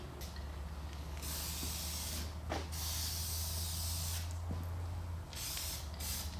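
Spray paint hisses onto the engine of an army truck under rebuild, in several bursts separated by short pauses, close and steady over a low background hum.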